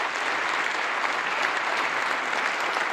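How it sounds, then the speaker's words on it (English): Sustained audience applause at a charity event for a community organisation working in East Africa, dense and steady clapping from a large crowd throughout, close and loud with no talk over it. "let's give them a big round of applause as well"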